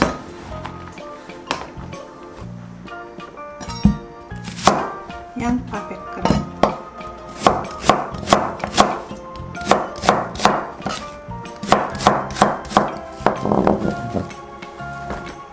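A knife chops ingredients for Korean beef radish soup on a board, beginning with a few scattered cuts and settling into quick, crisp runs of near, rhythmic thuds separated by brief pauses.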